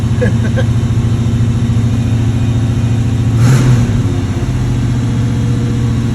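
Engine of a 1979 El Camino running at a fast warm-up high idle, a loud steady rumbling drone close by with a brief surge midway, a voice talking over it.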